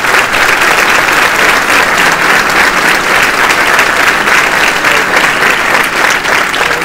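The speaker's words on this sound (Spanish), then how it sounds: "Yo os pido un aplauso para ellos." A political rally audience applauds loudly and steadily for several seconds, dense clapping from a large crowd with no voices on top.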